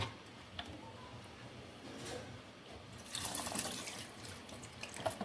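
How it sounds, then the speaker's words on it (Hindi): Water is poured into a simmering pot of black chickpea curry, a hissing, splashing pour that swells in the middle of the clip over steady kitchen background noise. "मैंने थोड़ा सा डाल दिया इसमें मज़ीद पानी, ताकि ये चावलों के साथ रेडी हो जाए"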